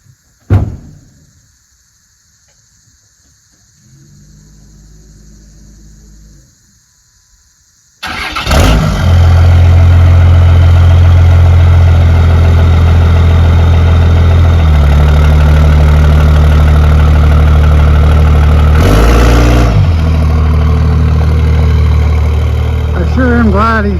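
A crusty Dodge Ram 2500 4x4 truck with a big exhaust pipe out the bed starts up, then runs loud and close, its engine note shifting as it revs and settles; earlier a quieter rumble is heard before the start.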